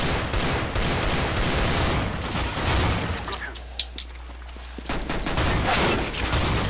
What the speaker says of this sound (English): Fucking hell, I'm on the shotgun now.